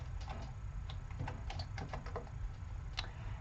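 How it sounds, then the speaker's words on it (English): Close, soft keystrokes tap out in irregular bursts on a computer keyboard while someone codes HTML, with no voice present. "I'm typing right now"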